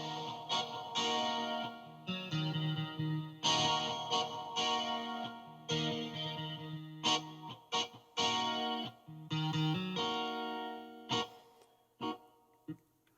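A Korg Pa5x keyboard plays short chords and phrases with a hall reverb effect, each note cluster ringing out and decaying into a spacious tail before the next, fairly soft overall.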